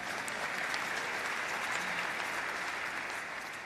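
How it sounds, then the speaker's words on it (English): Sustained applause from a large conference audience at a policy gathering, steady and dense clapping filling the room for several seconds without pause. "you can clap for that."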